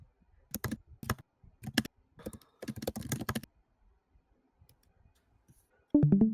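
Short bursts of typing on a computer keyboard, quiet, close clicks in scattered clusters with pauses, ending with a louder burst.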